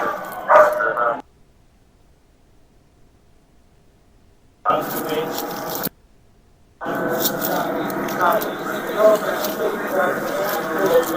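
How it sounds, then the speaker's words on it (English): A sheriff's office K9 police dog barking at a police shooting scene, sharp repeated barks and yips in bursts separated by gaps, loud and close, with shouting voices mixed in. "Gonna see my dog, he won't bite you!"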